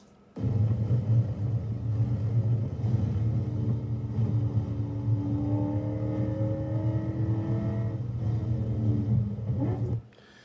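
A race car at speed into the braking zone of turn 17 at NCM, a steady loud in-car engine roar with a slowly shifting pitch as it slows, then an abrupt cut to quiet.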